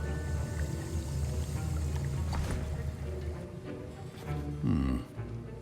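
A potion is stirred in a cauldron in the Hogwarts Legacy game, with soft liquid swirling and sloshing under a low, steady ambient bed and a fuller slosh near the end.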